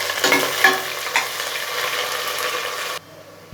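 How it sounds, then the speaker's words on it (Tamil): Sliced onions sizzle in hot oil in a pan while being stirred for kushka, a close, steady frying hiss with a few scraping strokes, then the sound drops away near the end. "இதை நல்லா பொன்னிறமாக ஆகிறது வரைக்கும் இது நல்லா வதக்கணும்."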